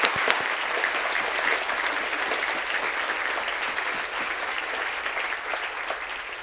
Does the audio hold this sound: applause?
yes